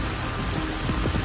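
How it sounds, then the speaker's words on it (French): Rain falls steadily during a traditional Innu fishing trip in stormy weather, a dense, constant hiss of drops spread evenly throughout. "Il commence à vraiment pleuvoir."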